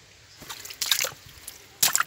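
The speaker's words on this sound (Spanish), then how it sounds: "Mira cómo viene saliendo el agua ahí." Spring water trickles and drips out of the ground from under a tree trunk in short, irregular bursts, faint and close, with quiet pauses between the splashy spurts.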